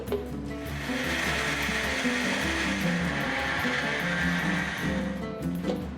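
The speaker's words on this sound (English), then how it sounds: "Add to a food processor or a strong blender." A strong blender grinds roasted cashews into powder, a steady loud whirring roar with gritty rattling that runs throughout, easing slightly near the end.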